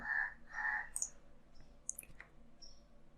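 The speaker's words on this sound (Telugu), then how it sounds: "సో ఇప్పుడు ట్యాప్ క్లిక్ చేస్తున్నాను" A few quiet, sharp key clicks on a computer keyboard, scattered singly over about three seconds, near and faint against a low background hum.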